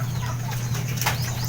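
Pigeons flapping their wings during homing training, a quick flurry of soft wingbeats close by over a steady low background hum.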